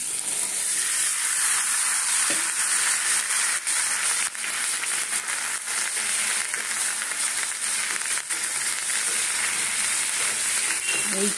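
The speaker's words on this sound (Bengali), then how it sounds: "চলো আমি কষিয়ে নিই" Chickpeas sautéing in a pan with spices, a steady close hiss of frying with occasional stirring scrapes, continuous and fairly loud throughout.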